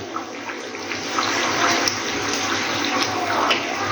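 Water pours steadily into a cooking pot holding meat and potatoes, a continuous close splashing rush lasting a few seconds with no voices.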